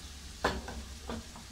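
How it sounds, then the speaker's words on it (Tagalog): Beef frying in a pan for stroganoff, a soft steady sizzle with a couple of brief stirring scrapes, fairly close and alone without talk. "Okay, just fry it"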